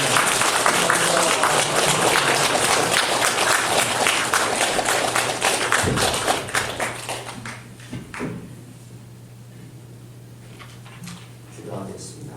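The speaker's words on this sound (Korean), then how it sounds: "감사와 영광의 박수로 영접하도록 하겠습니다" A church congregation at a Korean Sunday morning service claps to welcome the pastor, loud, dense applause that fades out after about six seconds, followed by a few scattered claps and quiet room sound.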